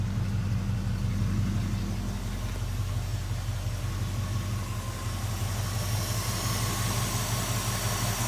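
A 1967 Mercury Cougar XR7 with a 289 V8 idles at about 600 RPM, a steady, smooth, fairly quiet low rumble with an even pulse that holds throughout, with no voices.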